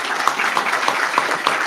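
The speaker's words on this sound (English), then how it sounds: "let's give her a big round of applause" Audience at a Caring for the Kenai presentation event clapping for a student presenter, a brief burst of brisk, fairly loud applause with a few distinct sharp claps.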